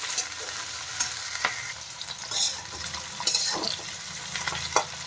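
Onions fry with bitter gourd in a pan, a steady loud sizzle broken by repeated scraping strokes of a stirring spoon, with no talking.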